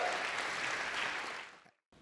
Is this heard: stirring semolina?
no